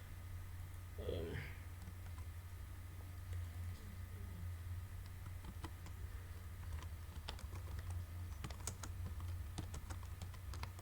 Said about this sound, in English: I think I need to type it down.